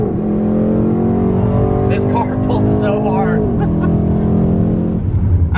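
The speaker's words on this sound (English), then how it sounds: "This car pulls so hard." A Mercedes E63S pulls hard on a racetrack, its engine note loud and rising steadily from inside the cabin while someone talks over it.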